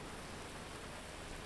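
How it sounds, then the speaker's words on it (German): Steady, continuous rain hiss in the video game GTA 5, quiet and even throughout with no distinct drops standing out and no voices. "Jetzt stehen wir hier im Regen, super."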